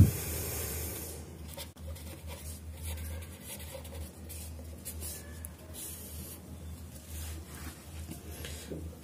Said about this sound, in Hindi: अब गिवन डेटा हम लिख लेते सबसे पहले